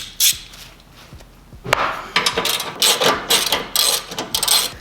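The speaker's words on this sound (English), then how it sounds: "Okay, let's get the skid plate off." A ratchet works on skid plate bolts underneath a car, giving bursts of rapid clicking strokes, first a sharp knock, then a fast run of close, loud ratcheting pulses with short pauses between.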